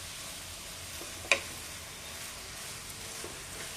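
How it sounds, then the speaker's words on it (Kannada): Grated bottle gourd fries in ghee for halwa with a soft, even sizzle that runs throughout. A single sharp clink of stirring stands out near the start, and no voices are heard. "ಸ್ವಲ್ಪ ತುಪ್ಪದಲ್ಲಿ ಚೆನ್ನಾಗಿ ಫ್ರೈ ಆಗಬೇಕಿದು."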